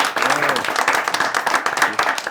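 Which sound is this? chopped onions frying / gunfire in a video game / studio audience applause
studio audience applause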